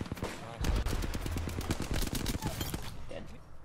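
Rapid bursts of Mastiff shotgun fire and other gunshots in an Apex Legends match, loud and dense over several seconds, with voices mixed in.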